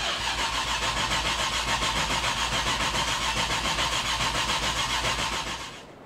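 A Nissan R34 GT-R engine runs loud and steady close by, a continuous throbbing roar with no voices, easing off slightly at the end.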